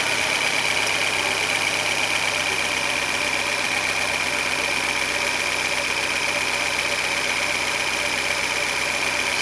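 Fiat Palio 1.4 engine idling while its idle speed is being adjusted, a steady, unbroken mechanical hum with a high whine on top, close and constant throughout.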